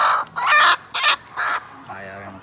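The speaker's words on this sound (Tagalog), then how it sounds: "Naglalaban yung itik at saka manok oh." A duck and a rooster fight while chickens cluck nearby on a game fowl farm, a run of short loud squawks and clucks in quick bursts, ending with a quieter drawn-out call.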